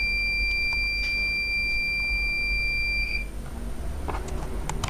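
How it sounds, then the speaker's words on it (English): A solar siren for a solar beam security system gives a long, loud, high electronic beep as it switches off. The tone pulses briefly, holds steady for about three seconds, then stops. A few faint clicks follow. "You will hear a long beep as the solar siren is turning off."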